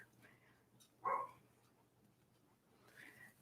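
A single short bark from Edgar the dog, heard faintly in the background of a quiet room during a library yoga session.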